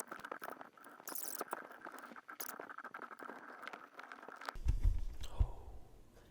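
Plastic clicks, snaps and scratchy prying as the bottom case of a 2021 Asus Zephyrus G14 Ryzen 9 5900HS laptop is opened, with a few heavier low thumps near the end; no talking.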